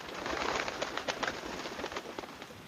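A small cartoon bird stuck in thorns in a jungle cries out in a quick series of short, chirpy calls with a soft cooing quality, with no speech over them.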